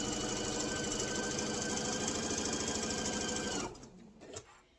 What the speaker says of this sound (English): we're going to sew from here down to the edge of the bottom